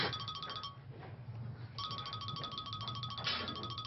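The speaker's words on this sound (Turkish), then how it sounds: "Ah, Ayda arıyor" A phone rings with an incoming call, a repeating electronic ringtone of bright tonal chimes that plays in two bursts with a short pause between, clear and fairly close, with no talking over it.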